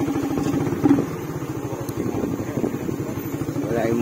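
A motorcycle engine idles and putters nearby with a steady low rumble, while people talk over it.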